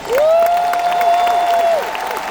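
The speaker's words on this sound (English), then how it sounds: "You should clap your hands." Audience applause at a large motivational gathering in Edmonton, a broad roar of clapping under a sustained voice tone or note, loud and continuous for about two seconds before easing slightly.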